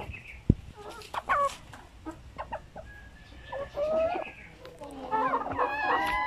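Zampen native chickens clucking and a rooster crowing nearby, with a sharp knock and scattered farmyard noises; faint human voice in the background.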